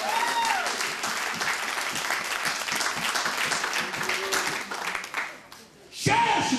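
A church congregation applauds, with sustained dense clapping and crowd noise for about five seconds that drops away briefly before resuming, under some voices.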